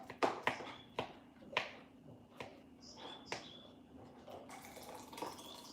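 A kitchen tap runs in a home while a dog eats nearby. Scattered clinks and drips come first, then a steady stream of water begins in the final seconds. A person speaks softly at intervals.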